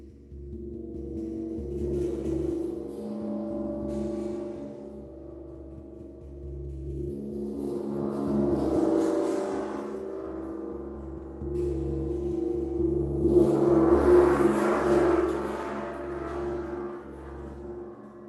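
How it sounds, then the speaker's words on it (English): A Chinese gong struck softly three times, each stroke swelling into a rich, shimmering wash of overtones before slowly fading, close and unaccompanied. "This is a Chinese gong, which you might be familiar with"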